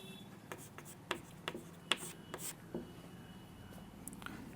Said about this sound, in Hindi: नंबर 2 लिखेंगे